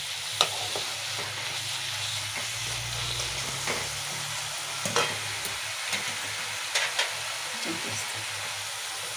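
Amaranth leaves fry in a pan with a steady, close hiss and sizzle, broken by occasional scraping clicks of stirring, while a voice speaks faintly now and then.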